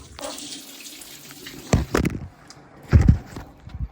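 Water running out of an engine's oil drain plug, splattering in uneven bursts that swell and fade, close by and fairly quiet.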